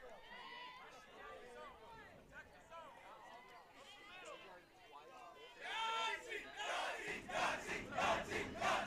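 A crowd at a girls' high school softball game yells and chants, a rising, energetic mass of voices that grows louder and denser toward the end, mixed with overlapping talk.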